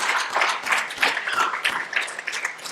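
Church congregation at a Sunday worship service clapping together, a dense patter of many hands at steady volume, close and continuous, with no voices over it.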